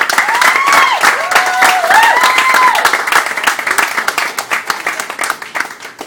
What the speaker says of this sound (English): I want to give you a big, huge round of applause